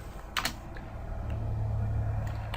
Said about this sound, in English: sorry, I have a terrible time typing and talking at the same time